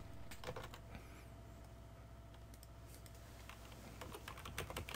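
Continuous keyboard typing on a computer keyboard while entering an answer for an ITQ internet exam question, steady clicking keystrokes throughout with a faint background hum.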